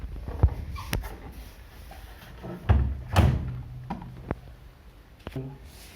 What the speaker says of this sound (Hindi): अब मैं डोर बंद कर दूंगी।